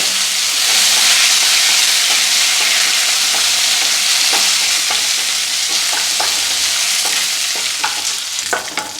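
Curry leaves sizzle loudly in hot oil with ginger and garlic, a dense close hiss of frying with scattered crackling pops and stirring, no voices.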